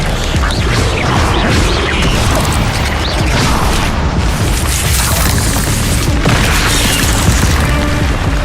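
Spell-casting effects from the Hogwarts Legacy video game, with the fire spell Incendio and the disarming spell Expelliarmus producing loud, continuous booming, crackling blasts that stay dense and steady throughout, with no one talking.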